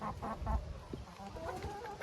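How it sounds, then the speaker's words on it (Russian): Silkie hens clucking softly inside their coop, several short low clucks close by, quiet, with no talking. "А теперь в этом домике у меня живут шелковые курочки."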